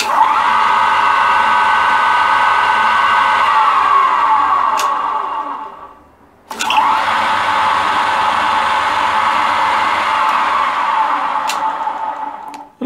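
A restored Meddings pillar drill runs at high speed with its fiber gear meshing a steel gear, a loud steady whirring hum that winds down, goes briefly quiet, then starts up again.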